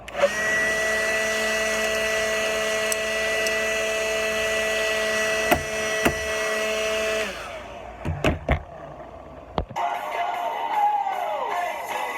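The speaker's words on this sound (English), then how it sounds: "I'm gonna hit it with the blower to get some of this dust off first." Air blower clearing dust from the bridge of a rusty Fender Precision Bass gives a steady, close whir for about seven seconds, then cuts off into scattered clicks and handling knocks.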